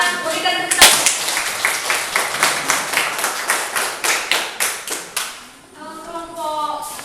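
A classroom audience of student teachers applauds after a group presentation: a steady run of distinct, evenly spaced claps lasts several seconds, then fades as a voice starts talking.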